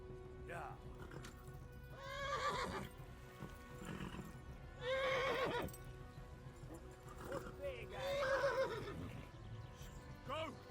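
A horse in the medieval game Kingdom Come: Deliverance gallops with steady clip-clop hoofbeats and lets out several loud whinnies and neighs over the course of the ride, while a player talks over the action.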